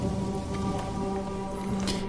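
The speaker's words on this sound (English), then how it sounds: "It is raining, What do you do when it rains?" Steady rain falls in the video game The Chronicles of Myrtana: Archolos, a dense continuous patter of drops with a low ambient hum beneath, filling the whole stretch evenly at moderate loudness.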